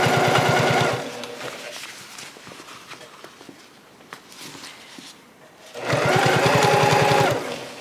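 A sewing machine with a walking foot stitches through vinyl, set to a 3.5 stitch length, for a shoulder bag. Two loud bursts of rapid, steady stitching sit at the start and end, with a quieter stretch of handling and shuffling between them.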